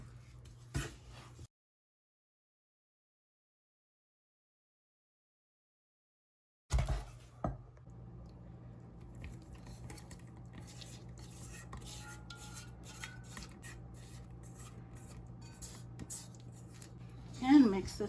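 Batter of plain yogurt, canola oil and eggs stirred in a bowl: a faint, steady run of soft scraping and tapping strokes after a brief silent gap, quiet and close.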